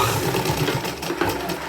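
Sewing machine running several rows of stitching to lock elastic in place on a little girl's dress, a brief continuous mid-pitched motor hum with rapid needle chatter, close and fairly loud.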